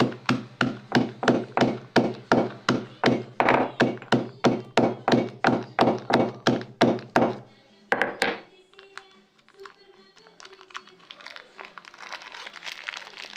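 Palm sugar candy, still in its plastic wrapper, is struck repeatedly to crush it, giving about twenty steady, hard knocks in quick rhythm. Crinkling and rustling of the wrapper follow.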